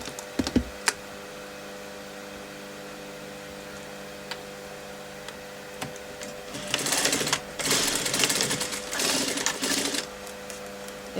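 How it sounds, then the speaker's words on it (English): A sewing machine stitches along a folded line of fabric for ladies' trousers. After a few scattered clicks, the needle whirs in short, steady bursts that sound close and moderately loud, with no voices. "I'm going to stitch upwards on that line that I've just folded up"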